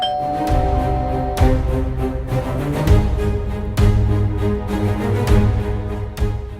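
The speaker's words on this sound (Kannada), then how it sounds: "ಇದ್ದಾರೆ ಅನ್ಸುತ್ತೆ ಬೆಲ್ ಮಾಡಿ" A doorbell chimes repeatedly in a home, clear ding-dong tones struck in quick succession over several seconds, loud and close with no talk.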